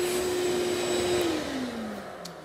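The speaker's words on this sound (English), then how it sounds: "For most of us, a shop vacuum is at least part of a dust collection system" A shop vacuum in a woodworking shop whines steadily and close, its motor pitch sagging slightly as it runs down over a couple of seconds, with no talk.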